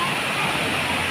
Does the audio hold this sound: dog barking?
no